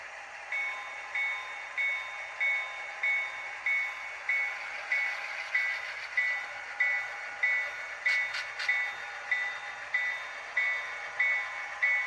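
HO scale model train running on a layout, a small motor humming with an even, repeating rhythmic pulse of wheels clicking over rail joints, close and steady, no voices.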